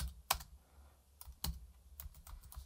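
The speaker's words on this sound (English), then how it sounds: "you can type the answer here" A computer keyboard typed on in a few scattered clicks and short bursts, close and fairly quiet, with no voices.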